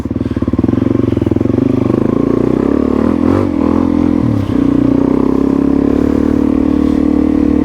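A Suzuki DRZ400E dirt bike is ridden on a muddy clay trail with its throttle held open. The single-cylinder engine drones loud and close throughout, its pitch dipping and rising as the rider works through holes in the track.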